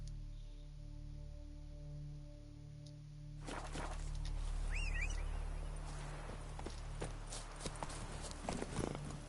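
Roach, the horse in The Witcher 3, hoofbeats clip-clopping in a quick steady rhythm on a path, fairly close, under low ambient game music.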